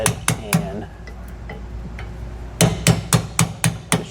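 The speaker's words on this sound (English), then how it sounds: "So the next thing we're going to do is hammer out our bushings." Hammer blows with a flat punch driving out trailer suspension bushings on a 2018 Shasta tandem axle trailer during a MORryde suspension upgrade: sharp metallic strikes, a few early hits, a pause with light taps, then a steady run of about seven blows.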